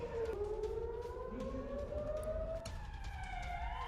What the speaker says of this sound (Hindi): तेल अवीव में लगातार बज रहे हैं सायरन